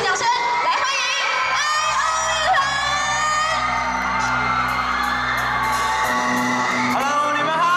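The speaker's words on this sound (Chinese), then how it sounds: "让我们用最热烈的掌声来欢迎" A festival stage crowd at the Taipei Lantern Festival whoops, shouts and cheers loudly for a boy band, sustained excited voices with high screams, applause blending into the roar throughout.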